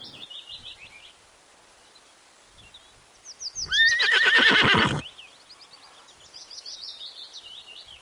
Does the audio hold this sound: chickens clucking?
no